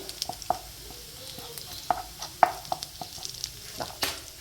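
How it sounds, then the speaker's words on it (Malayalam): Coconut bits, shallots and turmeric sizzle in a hot pan for a prawn roast, with a faint steady frying hiss broken by sharp spatula clicks and scrapes at irregular intervals, close up and with no talking. "ഇനി എല്ലാം കൂടെ അങ്ങ് മിക്സ് ചെയ്യുകയാണ് നല്ല ചൂടായ പാനിലേക്ക്"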